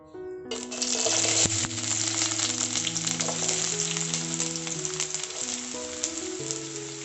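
Chopped onion hits hot mustard oil in a wok and sets off a sudden loud, steady sizzle that crackles on throughout, with background music playing underneath.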